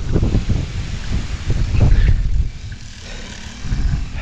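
Strong wind buffets the microphone in heavy low rumbling gusts, loud and close, easing briefly before surging again.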